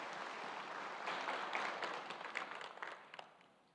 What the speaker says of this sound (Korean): 우리 박수로 한번 축하하겠습니다